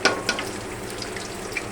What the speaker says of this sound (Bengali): এখন প্রথমে আমি পাঁচ ফোড়ন দিচ্ছি, জিরা, গোটা জিরা আর তেজপাতা